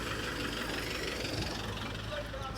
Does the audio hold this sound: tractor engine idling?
yes